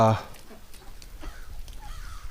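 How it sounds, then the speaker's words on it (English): Crows drawn in by scattered corn caw from a short distance in a winter duck yard, a quick burst of calls at the start followed by softer caws over low background noise. "The crows are coming in because of all that corn I put down"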